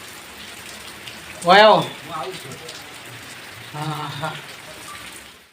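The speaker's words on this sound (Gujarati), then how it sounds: "વરસાદ હવે ફરો પડ્યો છે" Rain falls in a steady, soft hiss during a road trip from Banaskantha to Mandar in Rajasthan, continuous under brief voices and laughter.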